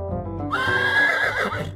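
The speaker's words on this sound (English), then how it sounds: "A horse neighs." A cartoon horse gives one loud, close whinny, a shrill quavering neigh lasting over a second.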